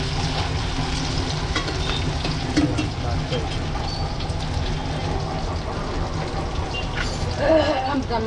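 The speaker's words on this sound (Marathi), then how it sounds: "फोडणीला कांदा टोमॅटो कांदा टोमॅटो फोडणीत टाकलं ना" Steady sizzling of onion and tomato frying in a Malvani-style tempering of hot oil, a constant crackling hiss that fills the whole clip with faint kitchen clatter.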